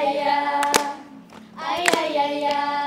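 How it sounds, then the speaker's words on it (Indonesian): Scout troop clapping in the Pramuka style, heard as a few sharp, separate claps spaced unevenly over a sustained tonal voice or music bed, fairly close and clear. "Tepuk pramuka."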